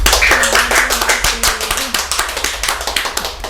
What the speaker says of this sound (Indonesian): Kita berikan aplaus dulu untuk beliaunya.